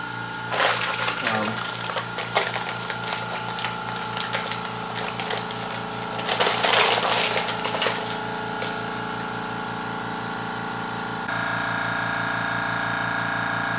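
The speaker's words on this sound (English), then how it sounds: "you could just turn on the air compressor" A Harbor Freight Fortress 1 gallon ultra quiet air compressor runs with a steady, even motor hum, overlaid early on by bursts of rattling mechanical clatter, and its tone shifts slightly near the end as it keeps pumping.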